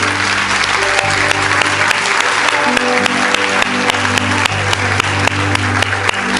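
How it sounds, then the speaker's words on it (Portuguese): Loud, sustained congregation applause during a Sunday evening church service, many hands clapping steadily over soft held keyboard chords in the background. "Você pode aplaudir esse Deus maravilhoso?"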